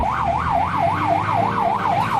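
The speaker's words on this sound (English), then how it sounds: "some reluctant drivers deafen their ears against the loud, unending siren" Fire engine siren wailing up and down in a steady, repeating rise-and-fall cycle, loud and close, sounding over a background of traffic stuck in a jam.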